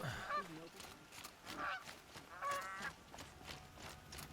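Geese in the Horizon Zero Dawn game give a run of soft, nasal honks at an irregular rhythm against quiet background noise. The calls are faint and fairly close.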